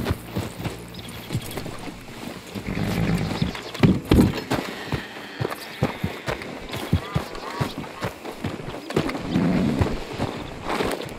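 Horse hooves clopping in Red Dead Redemption 2, uneven irregular thuds at a walking pace, fairly close, over a soft rustling outdoor ambience.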